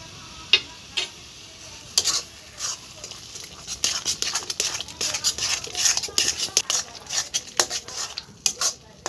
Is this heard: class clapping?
no